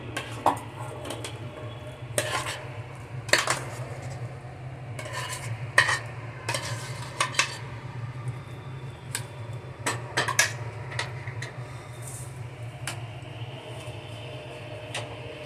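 Tamarind pongal being scooped into a serving bowl, with repeated spoon scrapes and clinks against the pots and bowl in an uneven rhythm over a low steady hum, close and moderately quiet.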